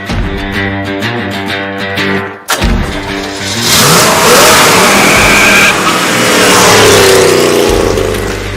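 A car accelerates hard with the engine revving loud and close. The pitch climbs, dips briefly at a gear shift, then roars on at full throttle for several seconds.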